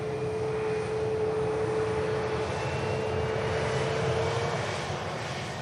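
A business jet rolls down the runway at Manchester Airport on its takeoff run, a steady roaring engine drone with a thin whine, heard from a distance with no voices.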